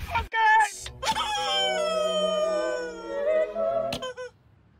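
A goose call fired as a comic cue during a live show: a loud, harsh honking blare with wavering tone, preceded by a short burst and cut off abruptly, heard fairly close.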